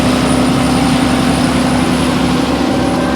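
A tractor-pulled destoner machine runs in a field, giving a loud, constant mechanical drone with a steady hum that never lets up.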